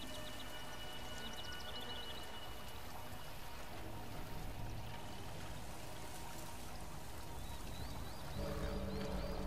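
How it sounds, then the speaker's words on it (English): Water sloshes and trickles continuously as an enemy soldier lies face-down drowning in a shallow pool in Metal Gear Solid V, with game ambience steady throughout and a slight rise near the end. "if you put an enemy on the ground, and his face is submerged in water deeper than his nose and mouth, you will eventually drown"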